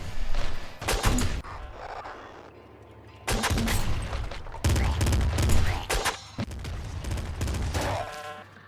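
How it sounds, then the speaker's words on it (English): Video game assault rifle fire comes in loud, rapid bursts separated by short gaps, with sharp repeated cracks over a low booming rumble and a gritty mechanical tail between volleys. "Ooh, assault rifle."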